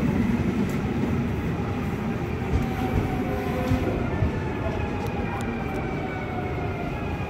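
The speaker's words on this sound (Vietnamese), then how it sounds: "Đây là xe lửa của Hà Lan các nhà." A Dutch train in the Netherlands, running between Zwolle and Deventer, rumbles steadily and loud and close throughout, a continuous broadband roar of wheels and carriage with faint clicks on top.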